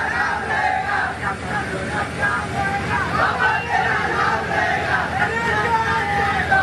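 Crowd of Ambedkar followers gathered at Chaitya Bhoomi in Dadar, a steady hubbub of many voices and murmuring babble throughout, with some traffic-like rumble beneath.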